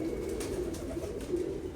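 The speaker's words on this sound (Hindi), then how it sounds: "ये हैं दोस्तों 10 नंबर कबूतर।" A pigeon coos, a soft low throaty sound repeating over less than two seconds against a steady background, close by, no speech.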